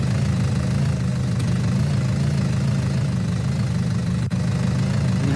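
A tractor engine idles close by in a steady, low, rumbling drone with a faint knocking texture, continuous and unchanging apart from one brief click.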